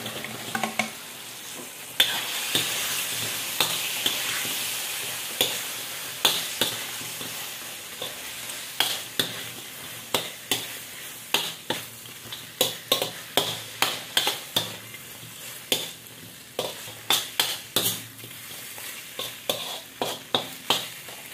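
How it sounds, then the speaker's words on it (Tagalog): Fried chicken wings sizzle steadily in a pan while a spatula stirs and scrapes them, the clatter growing into frequent sharp knocks against the pan over a constant frying hiss. "Lagay na po natin yung fry natin na chicken wings."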